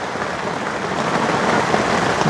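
Heavy rain pours steadily during a storm around a small hut, a dense, continuous hiss of drops close by with no voices.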